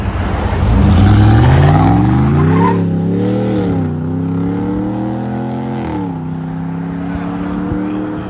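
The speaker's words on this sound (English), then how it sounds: "All we did was put on a Black Widow exhaust to let you guys hear it and see it." A 2022 Ram 1500 5.7L HEMI V8 with a Black Widow aftermarket exhaust and 5-inch tips revs up loudly nearby, then settles into a deep, throaty rumble with a few more rising revs.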